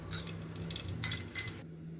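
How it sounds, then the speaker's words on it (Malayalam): Light metallic clinks and taps of a utensil against a hot pressure cooker as a tablespoon of ghee goes in, a few close, brief clatters over a quiet kitchen background. "ചൂടായ കുക്കറിലേക്ക് നമുക്ക് 1 ടേബിൾ സ്പൂൺ നെയ്യ് ഒഴിച്ച് കൊടുക്കാം"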